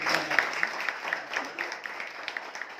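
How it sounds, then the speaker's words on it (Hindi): A seminar audience claps, a faint, somewhat distant patter of hands with a loose rhythm that tapers slightly toward the end. "तो एक बार इन सारे रीजंस के लिए जोरदार तालियां होनी चाहिए।"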